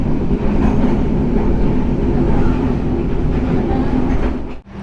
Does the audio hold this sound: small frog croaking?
no